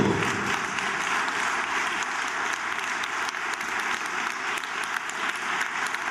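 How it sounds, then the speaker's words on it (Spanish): Loud, sustained applause from an audience fills the whole stretch, dense and even clapping close by without pause, with no speech over it. "Virginia Ogando, por quien pido un fuerte aplauso."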